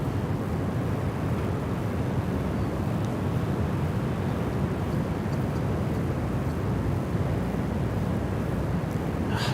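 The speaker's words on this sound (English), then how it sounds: "Here's our capital jet, the Capital Airlines A330." A Capital Airlines Airbus A330 jet at Sydney Airport produces a steady, broad engine roar that holds at constant loudness throughout, with rumble and wind noise and no talk.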